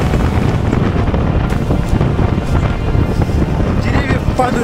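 Hurricane wind blowing along the seashore, a loud, unbroken roar that buffets the microphone, with surging surf beneath it throughout.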